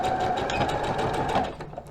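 Sewing machine stitching a reinforcement seam on a doll's jumpsuit, a close, fast rhythmic whirring needle chatter that runs steadily and then slows and trails off at the end.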